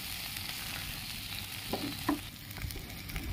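Green bean bharta is stirred in a hot pan, with a soft, steady sizzle and a couple of brief scraping knocks of the utensil near the end.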